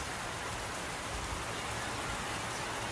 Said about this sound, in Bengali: বৃষ্টি পড়ছে টাপুর টুপুর।